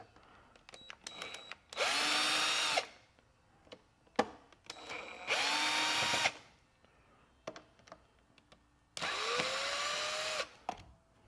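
Power drill backing out screws from a headlight assembly, three separate whirring bursts of about a second each, spaced by small clicks and handling noises, close and fairly quiet.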